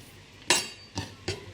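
A kitchen knife chops two garlic cloves on a board in three sharp, close knocks spaced unevenly over a second and a half, with no talking.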